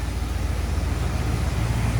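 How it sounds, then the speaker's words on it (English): A 1979 Ford F150 XLT Ranger with a 351 V8 idles steadily up close, a low continuous rumble with an even throb and no voices. "I'll start it back up though, that way you can hear the engine from the underneath the hood"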